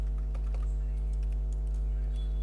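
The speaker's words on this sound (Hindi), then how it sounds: "अगेन हम लोग लेफ्ट एरो प्रेस करेंगे कीबोर्ड से" Computer keyboard keys click in quick irregular taps while someone types formulas into a Microsoft Excel spreadsheet, close and crisp over a steady low electrical hum.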